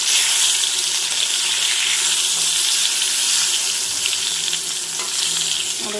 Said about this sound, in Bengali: এই যে বেগুন ভাজা হচ্ছে